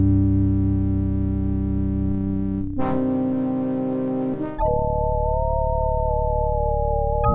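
The orichalcum detector in the adventure game Indiana Jones and the Fate of Atlantis gives off a steady electronic tone that warbles slightly, shifts pitch twice, then settles into a wavering high note. It is loud and continuous, with no talking.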